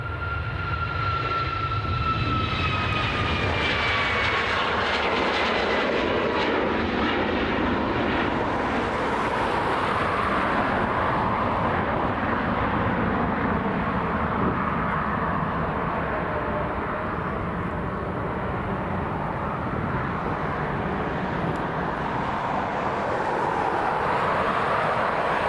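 A Ryanair Boeing 737 MAX passes at Dublin Airport, its jet engines roaring broadly and steadily for about 25 seconds. A whining tone falls in pitch early on as the aircraft goes by, and no one speaks.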